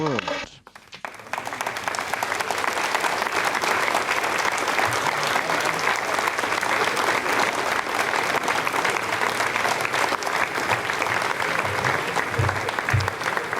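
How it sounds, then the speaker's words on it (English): Launch control staff at Jupiter erupt in loud, sustained applause after satellite separation during an Ariane 5 launch, with cheers and voices mixed into the dense clapping. "the final good news and the applause from the people here in Jupiter"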